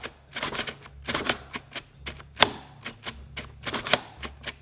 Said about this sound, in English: I just keep clicking the trigger to bypass it